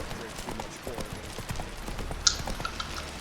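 Roach, the horse from The Witcher 3, gallops with a steady rapid clip-clop of hooves under the game's ambient noise, with a brief sharp accent partway through and voices faintly present.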